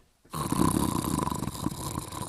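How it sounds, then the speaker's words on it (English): A man snoring heavily, a loud, close, rasping snore starting abruptly after a brief silence and rumbling on steadily. "After years of snoring like a train, the missus sent me for a CPAP Direct sleep test."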